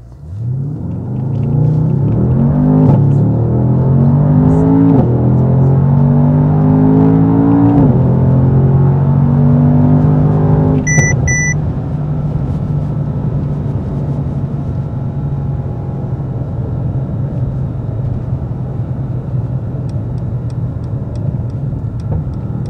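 A 2019 Mercedes-AMG S63 Coupe 4Matic+ accelerates hard in race mode, its engine roaring loudly and climbing in pitch through several quick upshifts before settling into a sustained high-speed drone with road rumble, heard from inside the cabin without talk.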